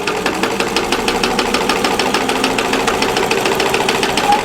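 A sewing machine stitches an envelope-style pillow cover at about 10 to 12 stitches per inch, a fast, steady rhythmic clatter running close and continuous.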